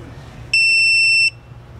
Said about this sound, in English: press and hold the set button for 9 seconds until it beeps twice